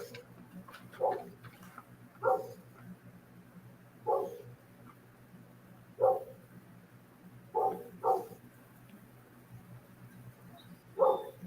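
Dogs barking in separated single and double barks spaced a second or two apart, moderately near, over a low steady hum.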